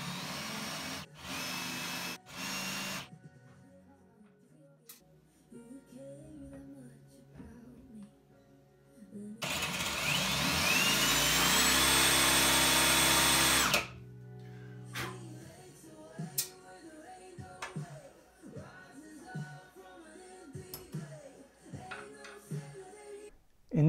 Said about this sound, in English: To make these holes, I'm using a half-inch Forstner bit.